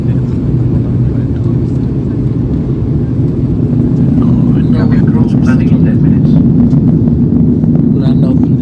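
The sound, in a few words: airplane descending to land in Delhi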